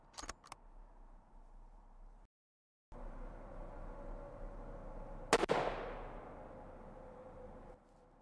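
Sako S20 Hunter .308 rifle firing Nosler Ballistic Tip 150 grain rounds outdoors: a sharp, loud report with a decaying tail midway, plus fainter clicks early on against quiet background.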